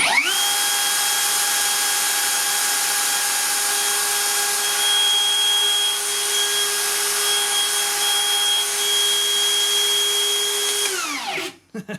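A Hikoki 36V cordless 1/2-inch plunge router idles on a workbench, a steady loud high whine with a constant pitch that holds for about eleven seconds before spinning down quickly under its brake.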